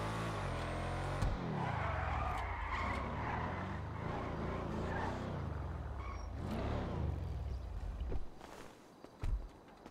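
A powerful V12 car engine roars loudly in GTA roleplay, with a brief tire skid and rumbling revs that fade near the end.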